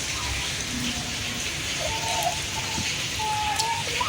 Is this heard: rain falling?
yes